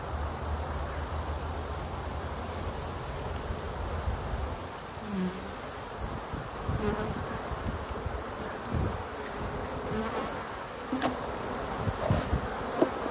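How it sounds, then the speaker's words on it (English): A dense, continuous buzz of many agitated honey bees on a hive frame close by, steady and intense, with occasional rustles and bumps underneath. "these bees are really mad"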